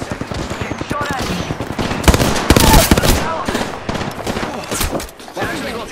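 Rapid automatic gunfire from an Apex Legends match, loud bursts of close shots rattling in fast clusters with brief gaps, with a voice talking over the shooting.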